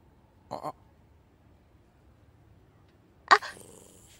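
A dog in the game Like a Dragon Ishin gives two short snarling growls, one brief at first, then a louder biting snarl a few seconds later that trails off, with quiet gaps between.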